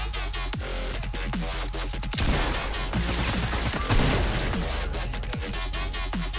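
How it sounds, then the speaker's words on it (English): Rapid bursts of gunfire in Fortnite Battle Royale, sharp repeated shots with louder volleys around the middle, over a steady low game hum and no speech. "And I'm getting shot from behind."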